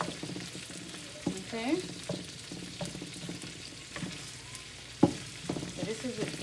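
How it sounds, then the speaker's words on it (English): Pork sautéing in butter in a pan turned up on high, a soft continuous sizzle with occasional stirring clanks and scrapes, fairly quiet, with a brief spoken word. "I'm just gonna make this saute a bit with the pork, the butter"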